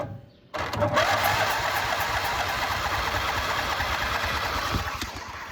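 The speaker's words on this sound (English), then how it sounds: "hopefully we're going to get this puppy to fire up" A John Deere LA 145 riding mower's engine cranks continuously for several seconds without catching, a steady close mechanical churning that starts abruptly after a brief pause.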